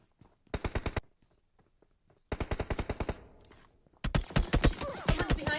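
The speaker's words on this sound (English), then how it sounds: "Getting shot from behind" Bursts of automatic gunfire ring out in PUBG Mobile, three rapid volleys of sharp, loud shots separated by short pauses, the last one longer and denser.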